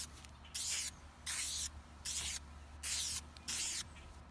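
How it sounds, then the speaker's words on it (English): Gray spray paint hisses from an aerosol can onto a wooden play button in five short, evenly spaced bursts, each about half a second long, close and loud against a quiet background with no talking. "I'm about to spray paint this gray."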